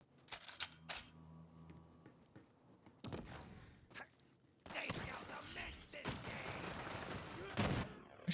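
Gunfire in the video game Borderlands crackles in sharp, close bursts, from scattered single shots to dense rapid volleys with brief quiet gaps, while a voice talks intermittently.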